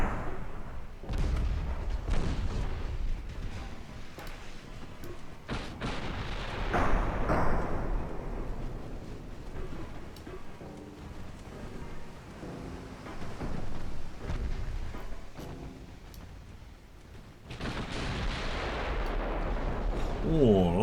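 Booming naval gunfire from a destroyer in the Dreadnought Improvement Project game, heavy blasts and rumbling explosions recurring across the stretch, loud and dense, with talk faintly woven through.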